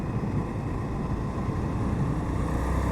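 An Indian FTR 1200 motorcycle engine pulls steadily in fifth gear at around 56 mph and just over 4,000 RPM, a continuous close drone mixed with heavy wind rush, no voices.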